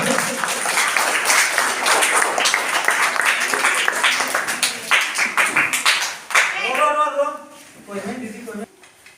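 Crowd applause welcoming storyteller Riya Majhi at a Santali-language storytelling event at a government upper primary school, steady dense clapping for several seconds that thins and fades into voices toward the end.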